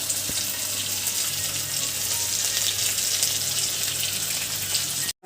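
Fish coated in masala fries in a pan, giving a continuous bright, close sizzle with crackling and spattering throughout, ending abruptly.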